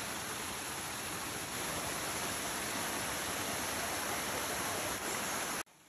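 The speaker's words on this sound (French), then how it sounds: "Il y a une petite rivière à côté." A small river rushes beside natural hot springs near Krabi, a steady, dense broadband roar of flowing water that holds constant before cutting off abruptly at the end.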